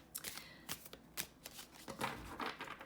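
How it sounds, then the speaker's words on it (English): A deck of tarot cards being shuffled by hand, with repeated crisp riffling bursts and soft card slaps in an irregular rhythm, close and fairly quiet, with no voices. "Other people shuffle it landscape style, if you can fit the whole deck in your hand."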